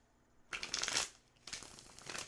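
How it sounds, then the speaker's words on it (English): Rider-Waite tarot cards being shuffled, two close bursts of riffling card noise with a short pause between them, no voices. "We'll get a good shuffle on these tarot cards"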